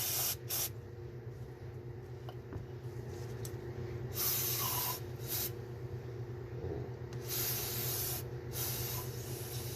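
Several short bursts of aerosol brake cleaner hiss close by onto a 1990s Honda differential bearing, separated by brief pauses, over a low steady mechanical hum.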